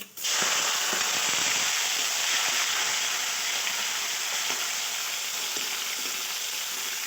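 Tomatoes hit a hot pan for a vegetable dish of val bean pods, bursting into a loud, dense sizzle right away and frying steadily close up with small crackles and stirring scrapes throughout.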